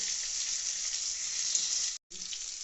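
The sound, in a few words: tomatoes and black cumin frying and being stirred in a pan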